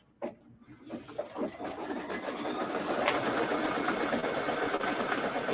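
Embroidery machine stitching the placement line for an inner fabric layer, first a few mechanical clunks and then a steady close whirring hum of fast needle strokes that keeps going.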